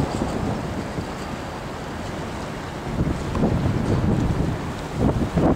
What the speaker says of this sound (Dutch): Een of andere waterbus of zoiets.